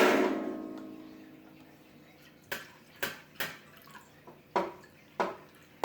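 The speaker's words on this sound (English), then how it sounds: "Gonna add our Worcestershire sauce." Worcestershire sauce splashes from a bottle into a venison jerky marinade in a series of short, wet glugs and drips that stand alone, close and moderately loud.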